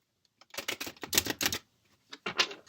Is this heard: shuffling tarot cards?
yes